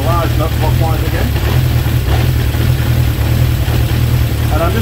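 Honda CB750 K2 motorcycle engine idling low and steady during carburettor balancing, a constant close rumble running throughout with someone talking over it.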